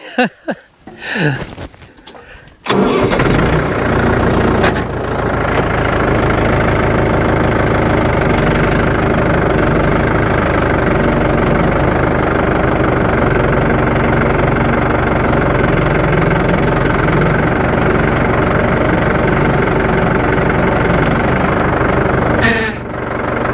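A tractor engine idles steadily and loud at close range, a constant low rumble with a faint knocking pulse, after a few seconds of brief noise at the start.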